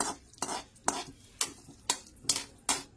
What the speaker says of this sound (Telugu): గ్రీన్ పిస్తా వేయించాను, నెయ్యిలో వేయించాను